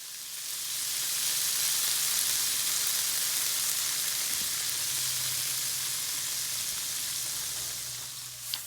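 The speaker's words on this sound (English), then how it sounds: "I'm going to put all of them back into my pan and add a little bit of butter" Vegetables sizzle in a pan with melting butter, giving a steady, close hiss of frying that holds for several seconds and ends with a small knock, with no talking.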